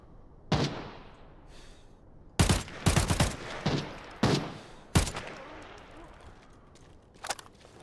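Sharp Mosin rifle shots ring out in the shooter game Arena Breakout Infinite. About eight loud cracks come at irregular intervals, some in quick pairs, each followed by a short echoing tail.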